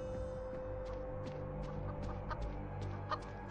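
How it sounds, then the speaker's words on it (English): A chicken in the horror video game Evil Nun clucks in a series of short, rhythmic clucks over a steady humming game ambience, moderately close, with no talk. "Chicken."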